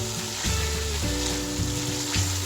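Soaked lentils added to a masala frying in oil in a Pakistani dal dish: a steady, fairly quiet sizzle with intermittent stirring scrapes, no talk.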